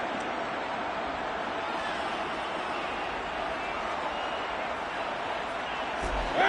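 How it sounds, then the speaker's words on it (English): Roaring football stadium crowd at a Buccaneers vs Lions divisional playoff game, a steady dense wall of cheering and noise that swells slightly at the end. "this crowd gets out making some noise"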